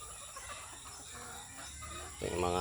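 Chickens and roosters clucking on a farm, faint at first, then a louder, close cluck bursts out near the end, with people talking in the background.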